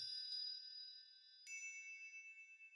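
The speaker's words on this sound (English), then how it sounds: "And you hear that little tinkling of bells beside you." Two small bell-like dings ring out quietly, each struck once and left to fade slowly, the second starting about halfway through with a gently pulsing decay.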